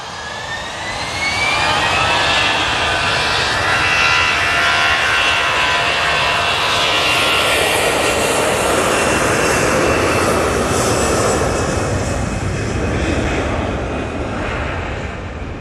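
An EasyJet airliner takes off from Manchester Airport bound for Rhodes, its jet engines a loud, close roar that swells within the first two seconds and then holds steady, slowly sweeping in tone, with no voices.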